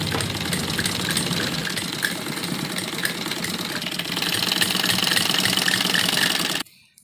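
A sewing machine runs steadily while stitching the neckline of a printed suit, its continuous mechanical whir close and even for several seconds before cutting off abruptly at the end.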